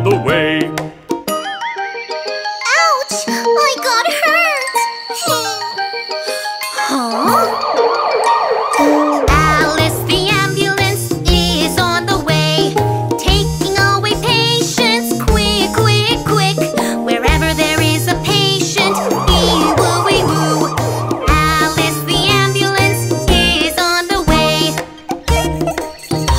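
A wailing fire truck siren rises and falls within an upbeat children's song, loud and upfront over bouncy instrumental backing, with a sung siren-like imitation woven into the music.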